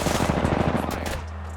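A rapid burst of automatic gunfire from the video game Apex Legends rattles off in quick succession, then cuts out and leaves a steady background hum.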